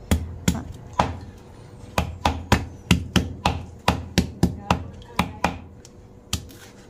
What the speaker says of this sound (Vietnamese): mình sẽ bỏ cái gốc của nó đập dập ra nha cắt ra cho nó ngắn